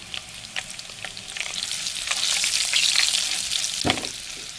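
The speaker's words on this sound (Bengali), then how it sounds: "এই তেলের মধ্যে ফোড়নে দিয়ে দিলাম একটু কালো জিরে আর কাঁচা লঙ্কা" Black cumin and green chili tempering in hot oil for a hilsa fish dish. A steady, bright sizzle swells midway with light stirring clicks, and one sharp knock sounds near the end.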